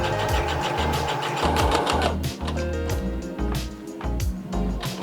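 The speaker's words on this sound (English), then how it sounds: "Sew with the cloak layer on top." Sewing machine running in quick rhythmic bursts as it stitches a heavy wool blanket cloak, the needle's mechanical chatter close and loud, pausing briefly between runs.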